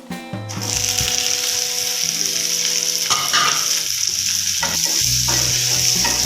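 Okra stirred into a hot spice tempering for a sweet-sour yogurt okra dish, sizzling and crackling steadily and loudly throughout, with spoon scrapes against the pan now and then and no talking.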